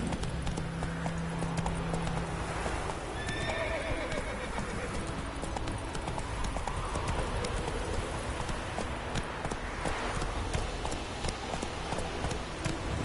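Roach, a horse in The Witcher 3 video game, gallops with steady clip-clopping hooves across the whole stretch, a whinny rising briefly near the start, all over a dense bed of game ambience with no talk.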